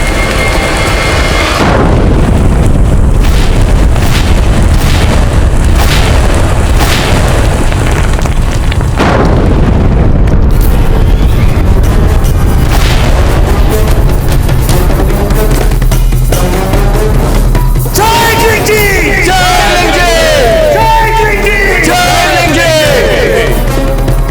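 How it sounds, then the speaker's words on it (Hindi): A gunpowder explosion in Akbar's army camp produces loud, sustained booming and roaring blasts that rumble on for many seconds, later mixed with wavering dramatic tones and voices. "धमाका हुआ है अकबर की छावनी में।"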